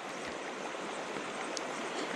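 Creek water flows in a steady, even rush at a trout-fishing spot, a constant broadband wash with no talk or distinct events.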